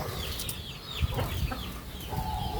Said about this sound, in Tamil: கோழி கொஞ்சம் உள்ளே போயிட்டு ஃப்ரெண்ட்ஸ்.